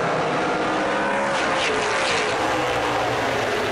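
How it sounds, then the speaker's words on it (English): NASCAR Pinty's Series stock car engines roaring loud and steady down the back straightaway during a 2017 Fall Brawl race, a continuous dense engine drone throughout. "Love hearing those NASCAR Pinty Series engines, that song down the back straightaway"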